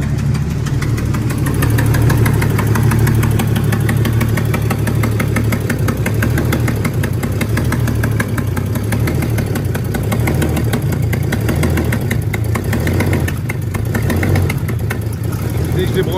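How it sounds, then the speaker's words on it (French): Car engine idling with a persistent rhythmic knocking clatter under the running hum, close and steady throughout, with a voice speaking briefly over it. "Voilà le fameux claquement."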